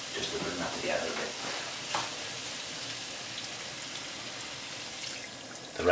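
Lamb curry with tomato puree and water bubbling in a pan, a soft continuous sizzle and crackle with faint pops, fairly quiet throughout and no voices.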